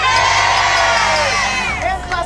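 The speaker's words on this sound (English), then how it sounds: "The crowd was huge." Huge rally crowd cheering and whooping at a teachers' event, a dense, loud roar of many voices with high shouts rising over it, close and sustained before tapering near the end.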